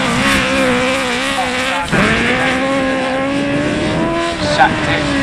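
Autograss race cars at a Nottingham meeting roar past close by, a continuous loud engine drone with rising and falling revs and one car sweeping past mid-way, while a commentator talks over the noise.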